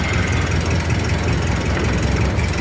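A 1929 Ford Model A pickup engine runs steadily at close range, a loud, rough, continuous low rumble with a throbbing mechanical beat, its running gear said to make a terrible noise.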